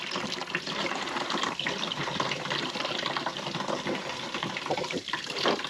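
Steady rush of cold shore water running from an RV faucet, a continuous even splash into the sink that carries on unbroken throughout.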